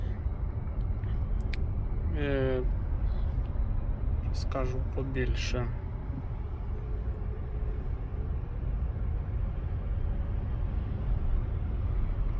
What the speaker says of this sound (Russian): У нас двигун увімкнений